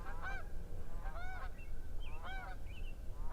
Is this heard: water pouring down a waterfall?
no